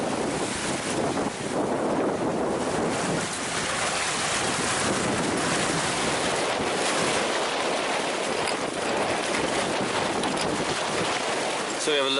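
Wind roars and ocean waves surge around a sailboat steering under a hydrovane on a transatlantic passage from New York to Ireland, a continuous loud, rushing wash with spray and buffeting across the whole stretch and no speech.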